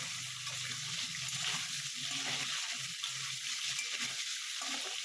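Potatoes with green chillies frying in a pan, a constant bright sizzle holding steady throughout with no voices.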